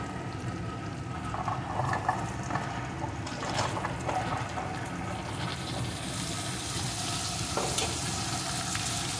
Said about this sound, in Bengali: এখন ডাঁটাটাও একটু কষিয়ে নেব।